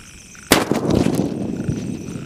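A Gorilla bomb firecracker bursts at a Diwali fireworks test with one sudden loud bang, then a crackling, rumbling tail that fades slowly over the next couple of seconds.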